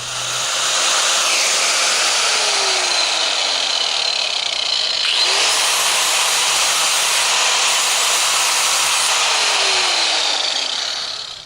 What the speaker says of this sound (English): I'm just going to use this little grinder with a little emery wheel on it and clean it up